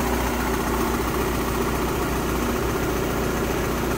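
A Honda Civic EK engine, being prepared for a dyno run, idles close by with a steady low rumble and constant mechanical hum that sounds slightly off, running continuously without any voices.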